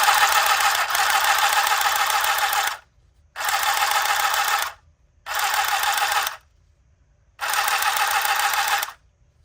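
Handheld sewing machine running loudly in four separate bursts of a few seconds each, a harsh, buzzing mechanical whir close up, with brief silent gaps between runs.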